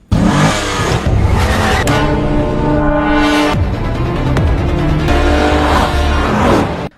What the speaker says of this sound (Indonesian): Kang Kyung langsung tancap gas dengan mobilnya